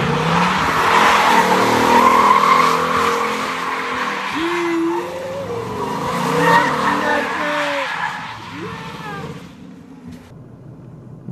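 Car tires squeal and skid through a run of wavering screeches as the car is driven hard, the engine roaring loudly beneath them before the noise fades out.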